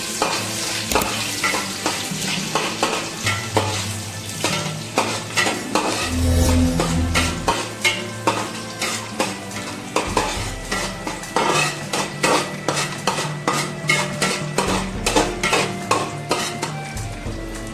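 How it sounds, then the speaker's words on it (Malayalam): Garlic, ginger and dried chillies sauté in a pan for a Kerala clam roast, with a constant sizzle under frequent sharp clinks and scrapes of a metal spoon stirring against the pan. "അതിനുശേഷം വറ്റൽമുളക് ഇട്ട് കൊടുക്കാം വെളുത്തുള്ളിയും ഇഞ്ചിയും പച്ചമണം പോകുന്നവരെ വഴറ്റിയെടുക്കണം"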